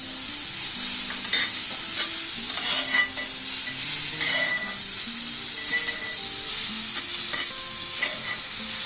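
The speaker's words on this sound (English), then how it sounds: "Mix this well." Prawns stirred on a hot tawa over high flame with red chili powder and garam masala, a steady loud sizzle with scraping stir strokes throughout.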